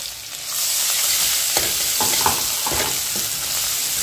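Ground garlic, coriander and curry leaves fry over a low flame, a close, steady sizzle that rises after a quiet start and carries scattered spitting crackles throughout.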